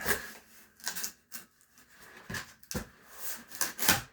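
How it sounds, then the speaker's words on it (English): Wood veneer being pried off a door: a series of sharp, close cracks and scraping snaps in irregular bursts, some louder splintering pops near the end, with no talk. "removing veneer so that in hopes I can put it back on"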